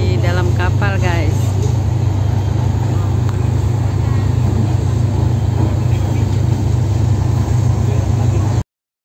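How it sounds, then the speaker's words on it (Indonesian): Trucks and buses rolling off a ferry at the Merak–Bakauheni crossing, a continuous loud low engine drone with idling rumble, a voice talking over it early on. "ada truk bus tuh yang turun dari dalam kapal guys"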